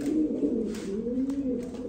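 A pigeon coos close by in a continuous low, warbling roll with slight rises and falls in pitch, heard alone without any talking.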